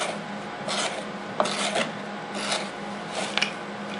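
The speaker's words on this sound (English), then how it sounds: "And what cut demo is complete without a selection of rope? Here's the ever-popular manila rope." Benchmade 8600 Bedlam knife cutting through manila rope, heard as repeated rasping, fibrous strokes that sound close and moderately loud, with no talking.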